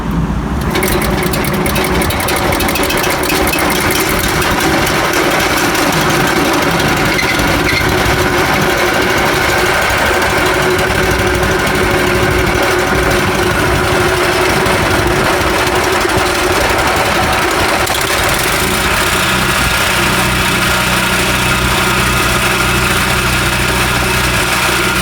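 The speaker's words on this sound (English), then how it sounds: "fire up the saw to make sure that this actually is working correctly" A Diamond Core Cut CC1300 walk-behind floor saw, just fitted with a new belt, fires up and runs steadily, a loud continuous engine drone with dense vibration that holds throughout, with no talk over it.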